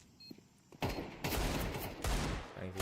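Rapid bursts of gunfire in a shooter video game, Deagle pistol shots among them, cracking out in several dense clusters after a brief quiet start, fairly loud against faint background noise.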